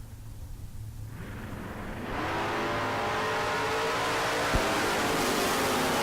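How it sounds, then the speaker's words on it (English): Super Pro drag race cars launch side by side in a heads-up round at Tucson Dragway, a low idle burble swelling into a loud, sustained roaring blast of engines heard from a distance. "heads up drag race here in round 3 of Super Pro"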